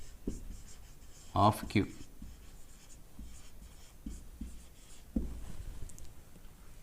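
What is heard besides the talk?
writing prime factors by hand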